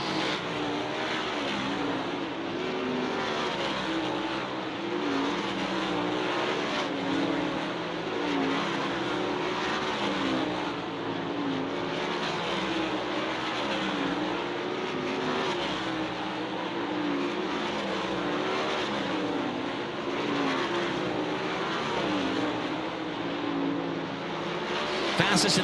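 Dirt race cars lap Grandview Speedway in a hot lap session, a dense, continuous engine roar from several cars. A commentator talks over the noise throughout.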